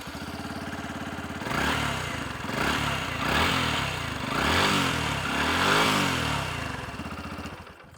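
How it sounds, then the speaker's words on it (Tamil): A Yamaha FZ 150cc motorcycle idles with a close, steady exhaust note, then gets several smooth throttle blips that swell and fade in a rolling rhythm before settling again. "எக்ஸாஸ்ட் நோட்டை நீங்கள் கேட்டு பாருங்கள்."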